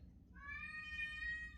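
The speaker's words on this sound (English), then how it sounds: "my cat's screaming at me" A pet cat gives one drawn-out meow that rises and then holds. The call is clear but fairly quiet, as if from a short distance indoors, heard alone over faint low background hum.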